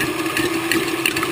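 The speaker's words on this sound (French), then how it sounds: "je monte les blancs d'œufs en neige. Pour commencer en vitesse lente. Puis j'augmente progressivement la vitesse." An electric mixer whips egg whites for a pavlova in a steady, close, loud mechanical whir, humming continuously over the short stretch.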